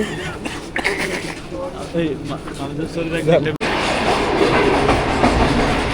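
Interior of a moving train on the Lahore to Karachi route: a steady rumble and rattle of the carriage runs throughout, with people talking over it in the first half before the rolling noise grows louder and fills the rest.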